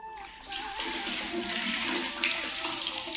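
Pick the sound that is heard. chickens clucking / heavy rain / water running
water running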